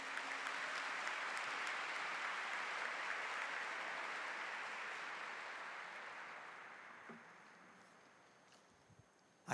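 A church congregation claps together in a sustained wash of applause, dense and fairly loud at first, then gradually thinning and fading away over several seconds.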